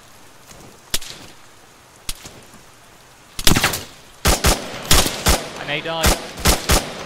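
Sharp gunshots from enemies firing down from a hill in a shooter video game: a few isolated cracks, then a rapid volley of loud shots, with someone speaking briefly between them.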